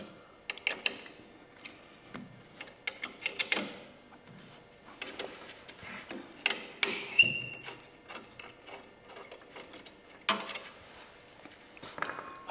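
Brake caliper bolts being loosened and taken out of an axle bracket, a series of close, sharp metallic clicks and taps in irregular bursts with brief pauses between, no talking.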